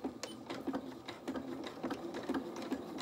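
Sewing machine stitching a fabric T-shirt dress, a steady rapid mechanical whir with regular needle pulses, close and fairly quiet, with no talking.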